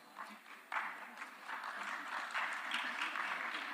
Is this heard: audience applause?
yes